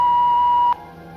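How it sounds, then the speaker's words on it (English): An answering machine gives a single steady electronic beep lasting under a second, then cuts to quiet room tone. "Please leave a message at the beep."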